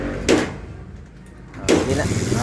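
A Kawasaki Barako 2 motorcycle with new brake lining that won't pull is started and revved twice, two sharp bursts rising over a steady low engine rumble.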